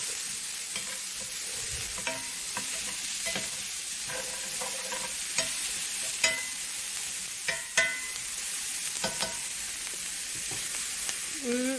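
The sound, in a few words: Salisbury steak cooking and being stirred in a pan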